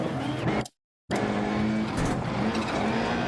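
Rally car engine in Dirt Rally 2.0 driving a Scotland stage, a steady loud drone with tyre noise through a handbrake turn, broken by a brief total silence near the start before the engine resumes.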